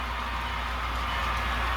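A continuous rumbling hum with a low steady drone from a model train of refrigerator cars rolling along its track nearby, with no voices.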